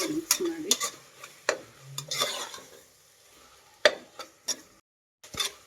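Tomatoes with turmeric are stirred in a pan during biryani cooking, giving a series of sharp spoon scrapes and clacks against the metal over a faint sizzle, with short pauses between strokes.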